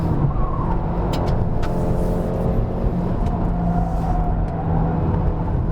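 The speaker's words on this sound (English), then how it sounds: "Nice little four-wheel drift." A 2019 Volkswagen Beetle 1.2 TSI climbs a hill, its engine droning loud and close with a rising note as it drifts through a bend, tyres hissing faintly underneath.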